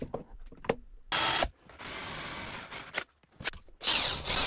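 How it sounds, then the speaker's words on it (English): A power drill whirs in several short bursts, boring holes into MDF, with quiet pauses and light handling noises between runs. "the MDF needs to be drilled"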